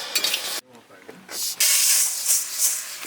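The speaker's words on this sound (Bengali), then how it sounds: "এবার আমি জল দিব ডালে" Water poured into a hot karai of fried lentils at a picnic cookout sets off a loud, bursting hiss of steam that swells after a brief lull and keeps roaring steadily to the end.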